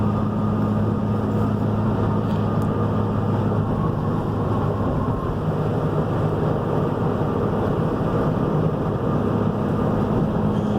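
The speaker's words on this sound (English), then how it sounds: "I removed the baffle out of that little can for the turbo. That's why you hear more of the turbo sounds and everything else." A 2016 RAM 5500 truck driving with the baffle removed from the turbo can, a loud steady engine drone with turbo whine running continuously and close, no voices.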